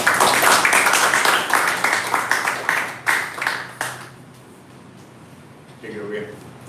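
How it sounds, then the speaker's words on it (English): An audience at an evening poetry reading applauds the young poets with a dense burst of clapping and voices that thins into scattered claps and fades into a hush. "So please, big round of applause for the young poets coming up to read."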